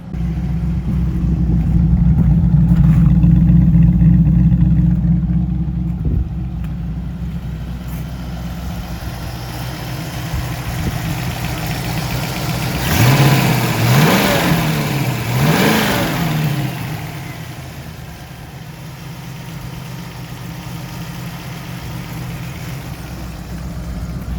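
A TVR Griffith sports car runs and drives after extensive repair work. Its engine drones loudly and steadily throughout, with a couple of rising revs mid-way as it accelerates.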